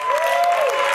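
A group of women in a TV dating-show studio applaud together, a dense, steady burst of clapping lasting about a second with a sustained musical tone running underneath.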